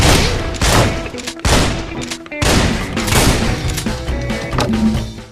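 Gunshots fired at close-together targets in the video game WET: loud, repeated sharp blasts in quick succession across a dense, noisy game mix, with brief gaps between volleys.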